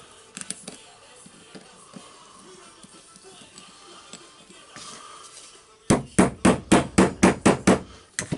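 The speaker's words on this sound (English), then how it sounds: "I will try to use the hammer." Around nine sharp metallic hammer blows driving a ball bearing into a Bosch GEX 125AC sander, steady rhythm, close and loud, following a stretch of quieter scattered taps and workshop clatter.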